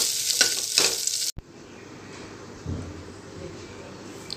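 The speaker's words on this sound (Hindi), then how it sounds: "अब मैं उसमें 2 कटे हुए आलू ऐड कर देती हूँ।" Potatoes with onions frying and being stirred in a pan for savoury daliya, a sharp clatter early on giving way to a soft, steady sizzle with occasional scraping.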